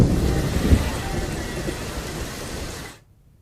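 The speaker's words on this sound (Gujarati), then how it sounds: "જિલ્લાના ગ્રામીણ વિસ્તારોમાં વરસાદ વરસી રહ્યો છે" Monsoon rain falling in a rural district of Gujarat, a steady hiss of downpour with a low rumble early on, ending abruptly in near silence.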